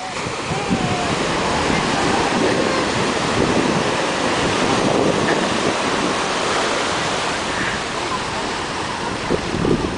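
Ocean waves at a beach make a continuous loud roar of surf, with wind buffeting the microphone throughout.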